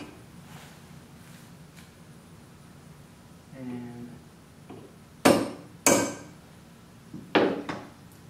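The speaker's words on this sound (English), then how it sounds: "And what you do is I take these sinkers and I kind of just give them a little tap." Lead fishing sinkers struck with a soft-face mallet give three sharp, loud taps, two close together then one more after a pause, each a short ringing knock with brief decay; a faint murmur comes earlier.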